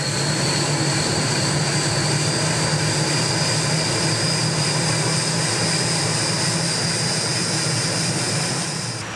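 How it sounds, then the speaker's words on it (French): Helicopter flying overhead during a rescue exercise, a steady loud rotor and engine drone that holds constant for the whole stretch with a high whine above it, no voices. "l'hélicoptère ne pourra pas poser"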